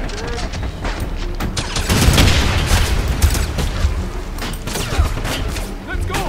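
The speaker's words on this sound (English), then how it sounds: "Oh crap, there's a grenade." A grenade blast and gunfire in the first-person shooter Wolfenstein (2009) at the Dig Site level: dense, loud combat noise with a heavy boom around the middle and repeated shots and bursts throughout, with voices mixed under the fighting.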